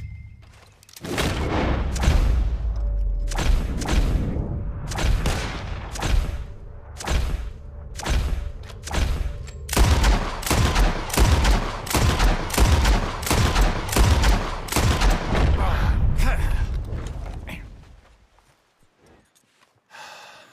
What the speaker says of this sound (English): As soon as you see them, start shooting. Wait for it. There they go now. Shoot!